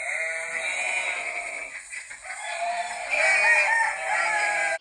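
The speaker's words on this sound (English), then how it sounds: "A lamb can find its mother by the sound of her bleat." A sheep bleats in a long, wavering cry, loud and close, and a second sustained bleat follows, clear against a quiet background before cutting off abruptly.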